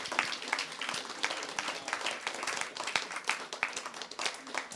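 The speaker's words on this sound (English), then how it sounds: "big thanks and big applause to you, our audience" An audience at a panel discussion event gives a round of applause, dense, steady clapping from many hands with sharp individual claps standing out, sustained throughout at moderate distance.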